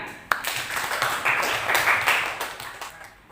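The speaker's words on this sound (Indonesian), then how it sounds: "Oke, baik, tepuk tangan" A class of vocational high school students claps in a classroom, a fairly close, uneven patter of many hands that swells and fades, with voices faintly mixed in.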